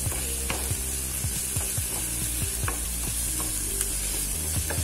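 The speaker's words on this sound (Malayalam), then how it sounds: "ഇനി ഇത് നന്നായിട്ട് ഒന്ന് ഇളക്കി യോജിപ്പിക്കണം." Onions frying with salt in a pan, stirred with a utensil: a steady loud sizzle runs throughout while repeated scraping strokes sound at an even rhythm, close up with no talking.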